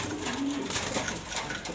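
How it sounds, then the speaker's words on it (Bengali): A young pair of Afsan grizzle pigeons coo softly and continuously close by, with low, throaty murmuring calls over light background noise. "এই যে দুইটা কবুতর আছে"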